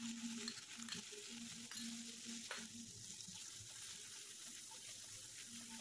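Chili-garlic paste and cumin fry in a little oil over low heat for a drumstick-leaf (moringa) dish, producing a faint, steady sizzle with occasional soft stirring scrapes.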